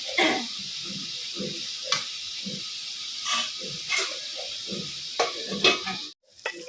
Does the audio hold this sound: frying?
yes